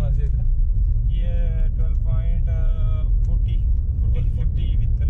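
Toyota Urban Cruiser driving steadily at about 60 km/h, with a constant low road and engine rumble throughout while someone talks over it.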